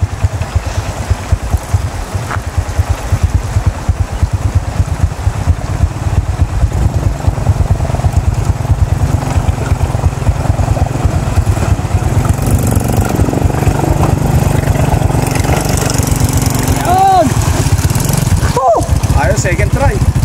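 A motorcycle engine runs loudly and steadily throughout, chugging close by with a rough idle rhythm.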